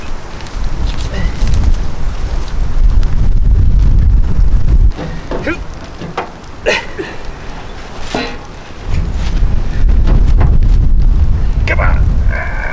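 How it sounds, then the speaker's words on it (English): Strong wind buffets the microphone in a loud, continuous rumble that surges and eases, with occasional faint voices and clanks underneath, outdoors while loading a 1920s O&S cement mixer with a winch. "it's kind of windy out"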